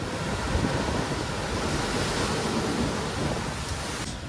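A constant, rushing outdoor wind roars steadily throughout, with no voices.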